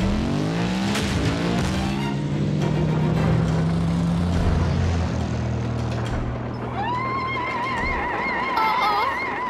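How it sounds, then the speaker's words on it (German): In a Transformers Prime cartoon, Arcee changes into a motorcycle. Her engine roars and revs loud and close, its pitch sweeping up and down, and a higher whine rises near the end. "Hat sie sich gerade in ein Motorrad verwandelt?"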